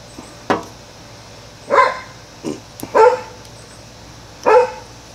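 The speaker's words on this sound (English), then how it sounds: "Dog." A dog barks in five separate bursts spread over about five seconds, some single and some doubled, fairly close and loud over a quiet indoor background while a heat-shrink battery connection is being worked on.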